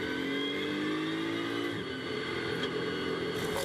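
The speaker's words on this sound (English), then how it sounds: "So Michael Vergers rattles over the curb out of turn 14" GT race car at Misano rattling over a curb out of turn 14, heard onboard as a loud, steady engine drone, briefly disturbed by rough bumps and thuds.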